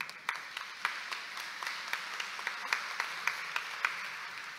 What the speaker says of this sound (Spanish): Lo recibimos con un cálido aplauso.